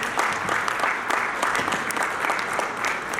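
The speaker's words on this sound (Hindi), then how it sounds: "एक बार जोरदार तालियां" An audience at a Lions Club charter night celebration bursts into steady, dense applause, many hands clapping at once from across the hall, sustained throughout without a pause.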